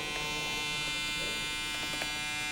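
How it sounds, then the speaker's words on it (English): An Andis Recon hair clipper runs continuously, giving a steady, smooth, close electric buzz that stays level in loudness from start to finish. "A very, very powerful, strong clipper with a nice, quiet sound."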